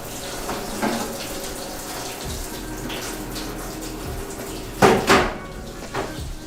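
Water running from a tap into a pot of beans for Cuban black beans, a steady splashing rush with a couple of louder pot clunks midway, close and unaccompanied by talk.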